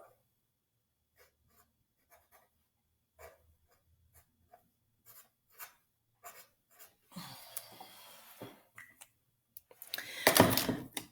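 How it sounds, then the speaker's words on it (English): Drawing two butterflies on paper: dry scratchy strokes come in sparse, short bursts at first, then turn into denser, louder scribbling and rubbing toward the end, with no voices. "I'm going to draw 2 of them."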